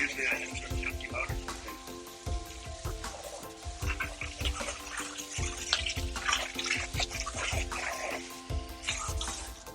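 Water spraying and splashing down into the small holes of an LS1 V8 engine block being cleaned after machine shop work, a steady rushing wash with uneven bursts throughout, voices speaking faintly beneath it.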